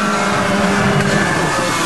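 A getaway car from a jewelry robbery speeds away from police on the A86 motorway, a loud, close, sustained engine roar with no voices.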